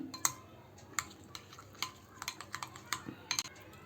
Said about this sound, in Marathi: गरम मसाला धणे पावडर हे मिश्रण आता मिक्स करून घेऊ चमच्याच्या साह्याने